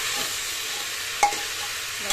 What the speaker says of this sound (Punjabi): ਮੈਂ ਤਾਂ ਫਰਾਈ ਕਰਕੇ ਬਣਾ ਰਹੀ ਹਾਂ